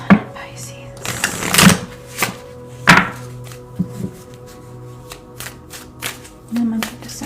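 Tarot cards shuffled in a series of quick riffling bursts and soft snaps, moderately close, with a low steady hum underneath and a pause between handfuls.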